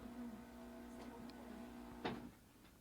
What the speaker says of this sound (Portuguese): A máquina de café.